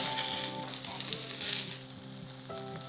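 Mushrooms sizzle in bacon fat in a pan, giving a steady, close frying hiss with a faint tonal hum underneath and no talking.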